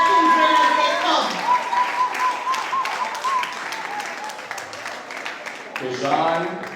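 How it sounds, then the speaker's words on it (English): Parents clap and cheer at the Lime Hall Primary & Infant School Class of 2024 leaving ceremony as children walk up. The applause is steady and moderately loud, with a voice talking over it throughout. "Parents, please cheer on our children as they come."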